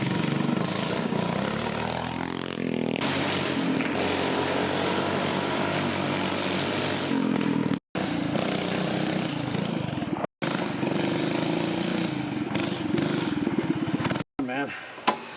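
A Coleman BT200X mini bike engine with a straight pipe, no governor and no carb runs loud and close, its rough roar climbing in pitch early on, then holding a steady drone, broken by a few brief cutouts.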